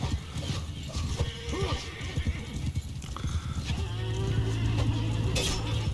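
Hooves clatter and horses snort and whinny amid a busy, noisy video game battle clash, with a steady droning tone rising beneath in the later half.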